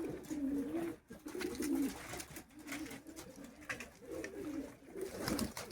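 High flyer pigeons coo softly in a cage, with repeated low throaty coos over a faint background, no speech.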